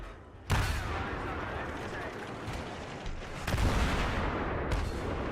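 Gunfire aimed at mines in a tank battle video game, a dense, continuous roar of shots and blasts that swells louder near the end, close and heavy throughout.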